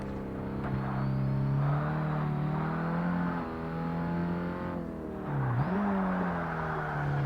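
Saab car engine racing in Forza Motorsport, a steady loud mid-pitched drone that holds through the run, dips sharply once near the end as if shifting or braking, then recovers.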